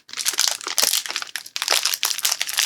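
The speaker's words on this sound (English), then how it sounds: "see if I can get this bag open" A crinkly plastic bag, wrapped in a lot of tape and holding hardware comics, is worked open in loud, close bursts of crackling and crunching that pause briefly between handfuls.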